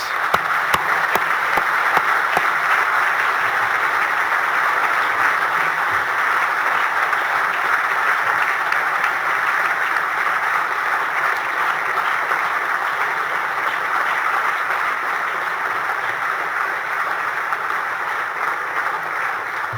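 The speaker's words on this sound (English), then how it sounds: "we would like to give you a very well-deserved round of applause" Large awards-ceremony audience applauding four standing nominees at the Australian of the Year ceremony, a loud, dense, unbroken wash of clapping held at an even level for about twenty seconds.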